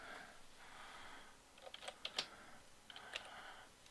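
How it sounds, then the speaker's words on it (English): Faint typing on a computer keyboard while entering text in design software, a short irregular burst of light key clicks in the middle of a quiet room with soft background noise. "type my name like that"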